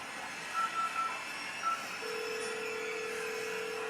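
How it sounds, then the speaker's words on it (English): A phone being dialed: a few short, faint keypad beeps followed by a steady, continuous tone against a quiet background. "Finally, I had the sense to take out my phone and dial"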